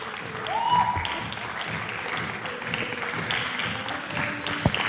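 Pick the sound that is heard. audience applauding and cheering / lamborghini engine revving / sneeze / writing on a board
audience applauding and cheering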